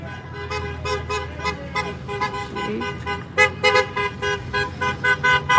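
Repeated car horns, including from an Audi, Nissan, Tesla and GMC, honk at a street protest outside an ICE detention center, short toots and longer blasts overlapping, some near and loud, over steady traffic rumble.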